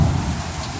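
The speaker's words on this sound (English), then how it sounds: "I'm appreciative of the rain, don't get me wrong." Heavy rain pours down steadily during a yard flood, a dense, loud wash of sound that continues unbroken through the whole brief moment.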